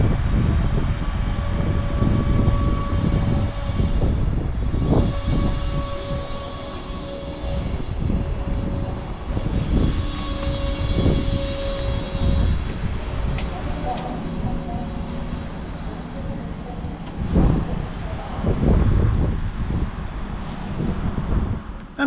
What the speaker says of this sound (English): here we can take a look of the so-called Quietschi arriving.